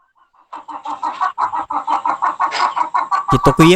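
A chicken clucks in a rapid, steady run of short, loud clucks close by, ending in a brief louder squawk.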